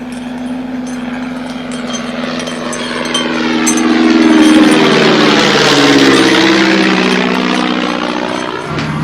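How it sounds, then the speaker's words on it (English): A propeller spotter plane flies overhead, its engine drone swelling steadily louder as it nears, peaks, and then holds a strong, slowly shifting hum without any voices. "the noise of the spotter plane, reminder of the king's constant danger, of Thailand's constant danger, grows louder and louder"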